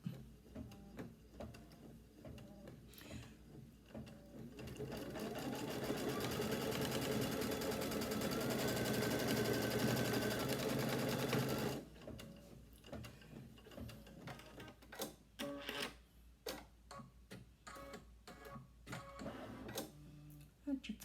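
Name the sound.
embroidery sewing machine stitching quilt block placement line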